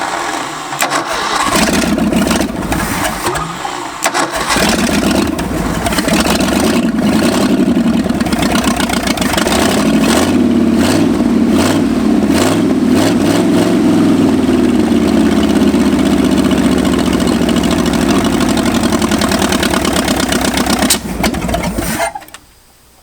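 A long-abandoned Ford F250 engine cranks and fires up after sitting 26 years, then settles into a loud, steady, slightly uneven idle that runs continuously for about twenty seconds before cutting off abruptly.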